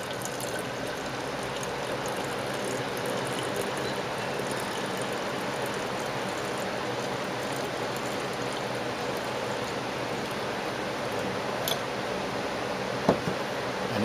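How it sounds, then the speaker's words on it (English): Liquid is poured off from a jar of rinse water while refining gold from computer scrap, a steady soft trickle and splash running continuously, fairly quiet, with a small clink near the end. "So now we're going to pour this off."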